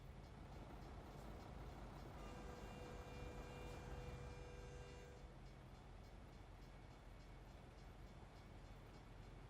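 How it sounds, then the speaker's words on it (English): A train rolls past in a truck-driving game while the player waits with a Volvo VNL truck, a steady rumbling wash with a sustained horn-like tone for several seconds, continuous and fairly loud throughout. "I gotta wait on train"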